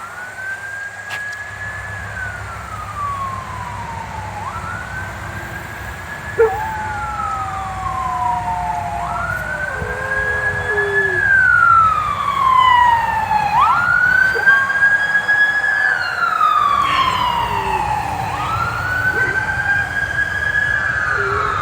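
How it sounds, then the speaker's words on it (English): An emergency vehicle siren wails in long rising and falling sweeps that grow louder and repeat steadily, while Bella the dog howls along with it on a farm. "Anytime Bella hears a siren, she howls along with it."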